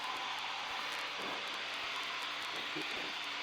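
A light training aircraft's engine drones steadily in the cockpit while flying the airfield circuit, a constant close hum throughout with faint intermittent clicks and no clear speech.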